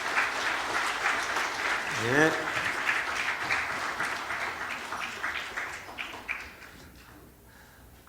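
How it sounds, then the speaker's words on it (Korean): A congregation applauds steadily at a Christmas Day church service, the dense clapping fading toward the end, with a voice speaking briefly over it. "들어가실 때 박수 다시 한번 해주시기 바랍니다"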